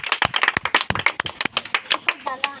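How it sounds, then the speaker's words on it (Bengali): A group of children clap loudly and rapidly for a game winner, a dense, uneven burst of overlapping hand claps with voices calling out among them. "সবাই জোরে হাততালি"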